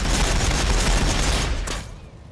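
Ork bikers unloading their guns in a Warhammer video game, a dense continuous roar of rapid gunfire that holds steady at full loudness and then tails off near the end.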